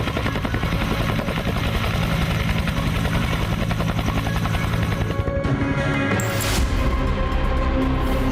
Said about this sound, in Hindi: वहां पर भारतीय सेना का हेलीकॉप्टर रोज ऐसे लैंड और टेक ऑफ करता है।